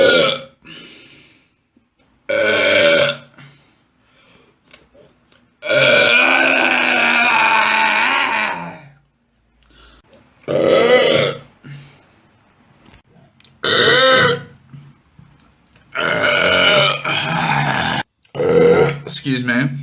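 Loud, drawn-out burps come one after another, separated by short gaps, close to the listener with voices talking between them.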